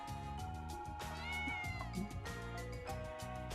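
A cat meows in the video game Ys: Memories of Celceta, rising out of a steady, loud musical score that keeps playing throughout; the cry is short and sits partly under the music.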